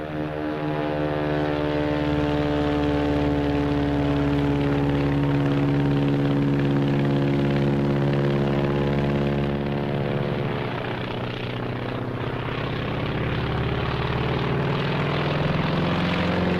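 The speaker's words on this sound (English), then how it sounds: "Plane climbing to heaven like a skyrocket? Heaven's the wrong destination for that baby. That's a Zero, the real McCoy." A Japanese Zero fighter plane flies past, its propeller engine droning loudly and steadily with a strong harmonic hum that shifts slightly in pitch partway through.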